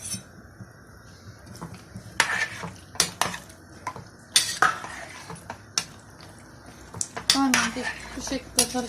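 A spoon scrapes and clinks against a metal pot while okra and meat stew is stirred, making irregular, sharp clanks and knocks over a faint simmer, close and fairly loud.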